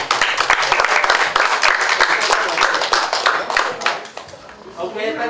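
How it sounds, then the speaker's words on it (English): An audience applauds to welcome a university lecturer at an accounting presentation, a dense run of claps that holds steady and then thins out near the end. "we have the big applause to Dr. Sherry"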